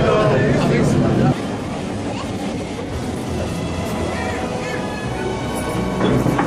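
A Brush electric Hill of Howth tram approaches with a steady rolling rumble and rail noise throughout, louder at the start and again near the end.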